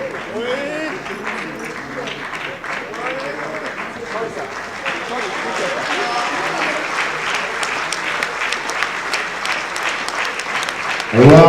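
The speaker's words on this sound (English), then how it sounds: "A round of applause, ladies and gentlemen." Audience applause fills a ceremony hall at the investiture of a new president of the Lagos Chamber of Commerce and Industry, steady clapping with voices mixed in throughout, swelling slightly toward the end.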